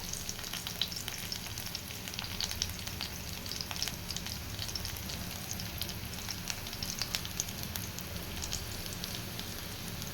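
Steady crackling sizzle of garlic and dried chillies frying in hot oil, continuous and close with occasional louder pops, no voices.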